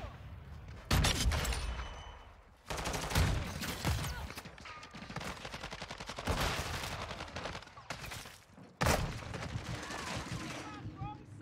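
Loud shotgun blasts from a video game, several heavy discharges spaced a couple of seconds apart with sustained gunfire and reverberant tails between them.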